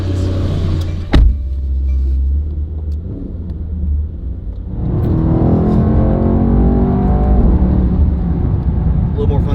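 A 2018 Porsche Panamera Turbo engine rumbles steadily, then swells into a louder, fuller roar as the car accelerates from inside the cabin, with a brief sharp knock early on.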